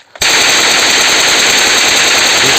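Rapid automatic gunfire from a shooter video game, a loud sustained burst of machine-gun shots starting abruptly after a brief silence and continuing without pause.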